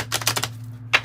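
A tarot card deck is riffled in a quick burst of close, crisp flutters, then gives a short pause and one final sharp snap.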